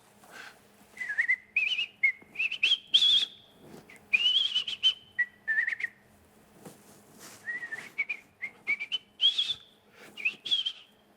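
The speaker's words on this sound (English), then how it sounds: "I begin to whistle" A person whistles a wandering melody of short rising and falling phrases, clear and fairly close, with brief pauses between bursts.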